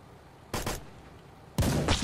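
Machine-gun fire in the video game Blackhawk Rescue Mission 5, heard as two short loud bursts separated by a brief pause, with no voices.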